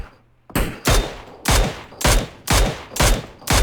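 Six loud gunshots ring out in a video game, spaced roughly half a second apart in a steady rhythm, close and sharp, with bullets striking an opponent's body and head and no talk over them.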